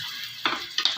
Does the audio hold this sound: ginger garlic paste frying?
yes